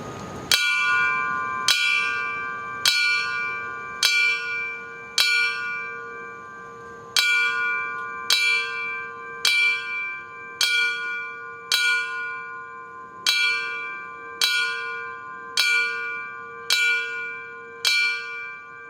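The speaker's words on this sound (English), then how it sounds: "we're going to ring the bell to signify the South Tower being struck" A single ceremonial bell tolls at a 2023 9/11 memorial ceremony in Union Township, about fifteen loud, evenly spaced strikes, each ringing out and decaying before the next, with no talk.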